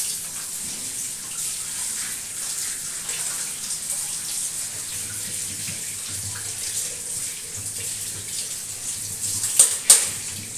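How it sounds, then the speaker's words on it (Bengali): A tea strainer is rinsed under a running tap, giving a steady, close splash of water that continues throughout, with a couple of brief clinks near the end. "চায়ের ছাঁকনিটাই ধুয়ে নিই"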